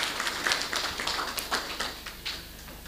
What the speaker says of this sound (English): Can we give a clap to Juma Reli